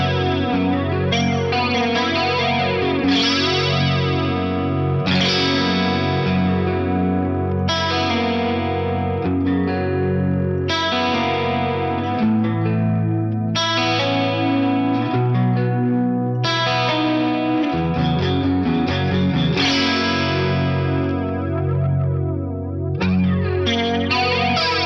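Electric guitar chords run through an Electric Mistress style flanger, first with positive then negative feedback, giving a loud, sweeping jet-like comb-filter whoosh over sustained strummed chords, with no talking.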